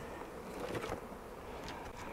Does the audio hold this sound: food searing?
no